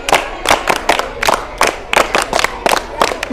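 Applause from a school audience at a quiz programme: a few short bursts of clapping in an uneven rhythm, loud and close, with crowd noise around them.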